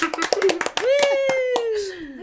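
A few people clap a quick burst of close, sharp handclaps to mark a finished home design project, then a voice cuts in with a long, drawn-out sound.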